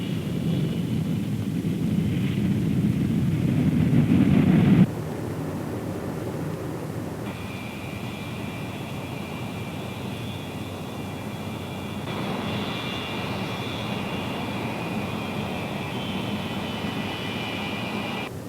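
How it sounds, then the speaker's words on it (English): Loud, steady roar of a B-47 jet bomber's engines on takeoff, rising and then settling into a sustained high-pitched whine with no voices. "When it's good and ready, the plane will fly off by itself."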